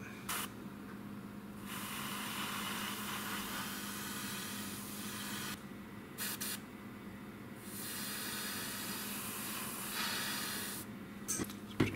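An airbrush hissing steadily as cleaner is sprayed through it, a long continuous spray broken by a few brief pauses, close and fairly loud.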